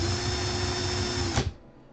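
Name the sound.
power drill running in reverse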